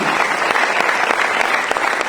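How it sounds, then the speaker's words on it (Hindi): A crowd applauds loudly at a motivational business event, a dense, steady burst of clapping held at full strength for a couple of seconds. "एक बार शानदार तालियां हमारे"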